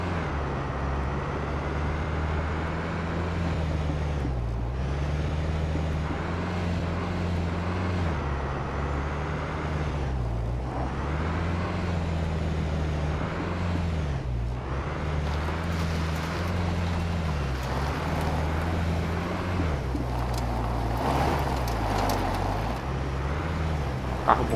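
Car driving in the survival video game Scum, a vehicle with a faulty headlight: a loud, steady low engine drone with a wavering pitch that dips and rises as it drives, with no talk over it.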